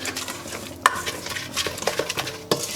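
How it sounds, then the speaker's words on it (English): Brown sugar is whisked into banana bread batter in a bowl, giving a busy run of wet scraping and clicking strokes with a couple of sharper knocks against the bowl. "Give that a whisk in."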